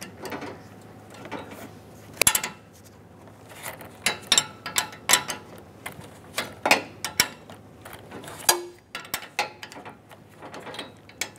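Ratchet clicks in short irregular bursts while tightening a nut on the AC condenser line of a 2007-2014 Chevrolet Silverado 2500 HD, close and fairly loud, with brief pauses and a few sharper metallic knocks between.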